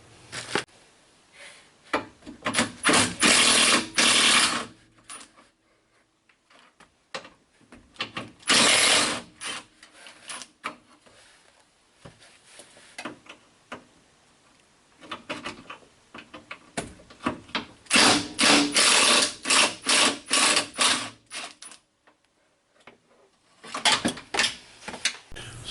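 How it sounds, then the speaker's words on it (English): Removing the hood release latch on a Honda Civic, with bursts of ratcheting and power-tool buzzing spaced between quiet pauses, plus scattered metallic clicks and taps from the latch hardware, all heard up close. "We'll take our latch off here quick, our hood release latch."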